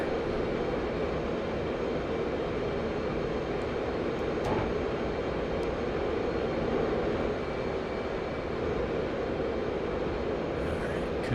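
Jet aircraft engine roar inside the DCS World flight simulator game during close air combat maneuvering, a constant loud broadband drone with no breaks throughout.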